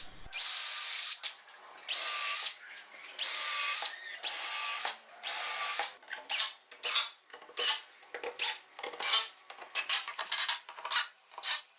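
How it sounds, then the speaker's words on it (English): A drill countersinking screw holes in a wooden table slider, in loud, steady whining bursts that give way to shorter, rapid stop-start pulses, with no talking. "Before that, I just countersink."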